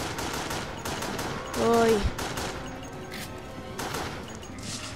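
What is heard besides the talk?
gunshots in the video game Resident Evil: The Darkside Chronicles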